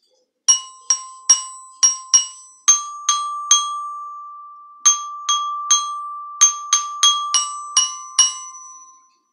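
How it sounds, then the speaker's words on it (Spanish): Children's candombe tune tapped out on a xylophone, a run of bright, ringing single notes struck one at a time in a steady, bouncy rhythm, each decaying quickly, played alone and close. "Y si la escuchamos en el xilofón,"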